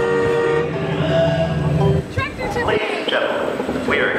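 Train horn and rail clatter sound effects play on an amusement ride at night, a loud horn blast followed by rhythmic clacking, with people talking over it.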